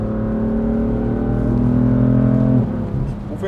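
A BMW M3 F80 revving hard as it pulls forward, engine note climbing steadily before a gear change near the end, loud and close from inside or beside the car with no talk.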